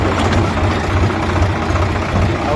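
A tractor engine runs near a loading site, a steady low diesel rumble with a slightly uneven, knocking pulse, loud and close with no talking.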